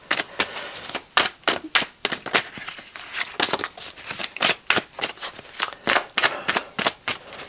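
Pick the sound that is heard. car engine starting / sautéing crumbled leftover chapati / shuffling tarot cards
shuffling tarot cards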